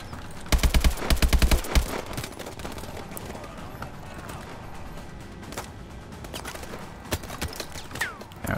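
Video game gunfire from Call of Duty: Advanced Warfare: rapid bursts of automatic shots early on, then scattered single cracks and distant exchanges under ongoing combat noise.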